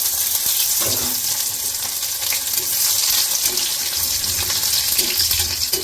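Chopped garlic dropped into hot oil in a pan for Kolkata-style chilli chicken, a close, bright sizzle with crackling pops and some watery clatter running steadily throughout, no one speaking.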